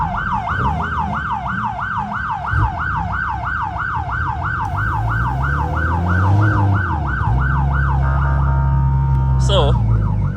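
Police siren wailing loudly and steadily in a late-night street scene among cars, sweeping up and down over engine rumble, then shifting to a different tone near the end.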